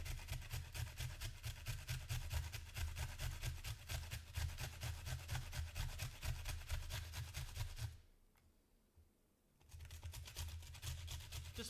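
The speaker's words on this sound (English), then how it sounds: "I think I can just grate straight into this bowl." An onion is grated by hand straight into a bowl, giving a steady, fast rasping scrape that pauses briefly before resuming, quiet and close.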